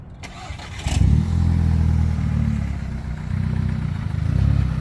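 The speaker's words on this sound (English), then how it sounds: "Y'all see his car do burnouts." A tuned DSG car with a new transmission and fresh clutch fires up and holds a loud, steady engine roar close by, rising and easing slightly as if building for a burnout, with no talk over it.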